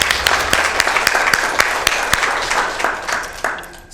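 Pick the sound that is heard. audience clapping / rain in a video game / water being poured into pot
audience clapping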